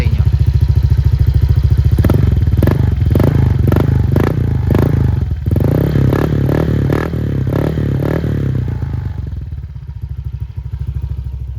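A motorcycle fitted with a polished 4 Road exhaust pipe idles loudly up close, its rapid pulsing thump settling from a fast idle to a slower beat, with clatter and scraping mixed in before the engine fades.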